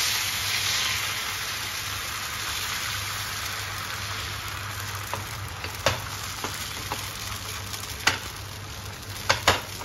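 Batter for ghavan roasts on a pan greased with ghee or oil, giving a steady fine sizzle throughout, with a few sharp clicks and taps from a utensil near the end.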